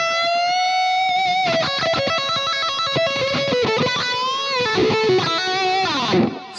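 Electric guitar run through a Fractal modeler with the wah engaged and disengaged by a control switch, the tone sweeping abruptly between settings across a continuous melodic line of sustained notes and quick runs, played alone and fairly loud.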